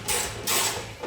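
A fender bolt on a 2010-2015 Camaro is driven down with a power tool, giving two close, buzzing whirring bursts separated by a short pause.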